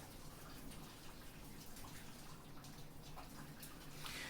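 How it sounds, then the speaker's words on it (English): Heavy rain pouring down outdoors, heard from inside an office as a constant watery rush with scattered louder drips and splashes, fairly quiet and without speech. "Yes, it is absolutely pouring down today"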